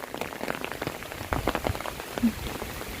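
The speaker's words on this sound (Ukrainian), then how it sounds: "Такий дощик. Дощ, дощ, дощ. Дивіться, і дощ." Rain falls during an outdoor walk in Berlin, a steady close patter of drops hitting surfaces with a few sharper individual splashes.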